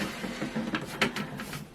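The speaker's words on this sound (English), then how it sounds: "We print off the first page because it has the gauge square" Home printer running a sewing pattern page, a short burst of whirring feed noise with a few quick mechanical clicks and rattles, close and moderately loud.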